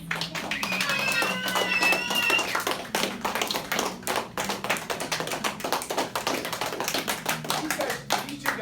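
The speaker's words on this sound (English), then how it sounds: "How about we just give like a huge round of applause to our 3 coaches?" A party crowd claps for three team coaches, a dense run of close hand claps with some voices and whistle-like tones early, continuing steadily throughout.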